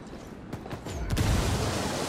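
A frag grenade in the game Ghost Recon Wildlands goes off after a couple of gunshots. The blast brings a rising low boom and a broad rumble that lingers to the end.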